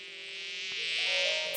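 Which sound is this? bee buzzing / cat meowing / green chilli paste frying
bee buzzing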